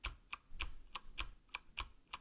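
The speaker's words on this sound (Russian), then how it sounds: "Слышно, что тыц об резину бьется." About eight evenly spaced keystrokes on a Motospeed CK61 mechanical keyboard with rubber O-ring dampened keys, each a sharp, close click heard alone.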